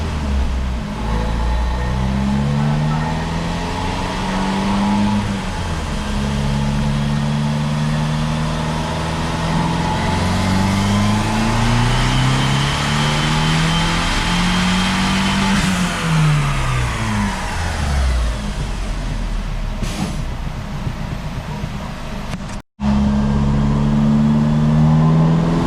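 A Fiat 500 Abarth with a 1.4 turbo MultiAir engine revs hard on a dyno, rising in pitch through several gears in a loud, close pull before a brief cut and the engine resuming.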